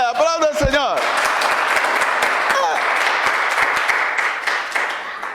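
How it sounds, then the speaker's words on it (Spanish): A church congregation claps in praise to the Lord, a sustained wash of applause that follows a brief spoken or sung phrase and carries on evenly to the end. "Aplauda al Señor."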